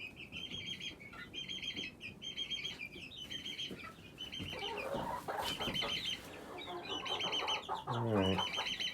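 Several roosters and hens cluck and chirp in short repeated bursts, with wings flapping briefly, all moderately close and fairly quiet against steady outdoor background noise.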